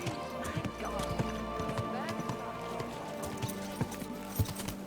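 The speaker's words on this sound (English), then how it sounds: "your horse nearly trampled me" Horse hooves clip-clop in a steady trot close by in the video game Kingdom Come: Deliverance 2, with occasional whinnies and a busy game-like ambience underneath.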